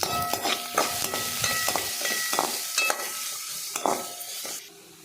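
Big cut onions stirred and frying in hot oil with mustard seeds and curry leaves, a steady close sizzle broken by repeated scraping and clanking stirs, no voices.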